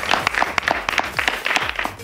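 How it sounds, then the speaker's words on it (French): An audience applauds at a live comedy show, a dense burst of clapping, fairly loud and near, continuing throughout. "Applaudissez pour son gérant Nobel."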